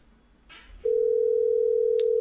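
A telephone line goes dead after the caller hangs up: a faint click, then a loud, steady, unbroken dial tone holds to the end.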